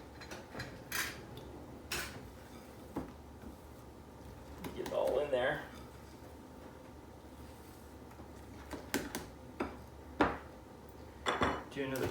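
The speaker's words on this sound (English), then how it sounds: "Now you have a really nice batter, and we're going to scrape the sides first." A spatula scrapes pineapple upside-down cake batter from the sides of a mixing bowl, giving soft, intermittent scrapes and light clinks while someone talks nearby.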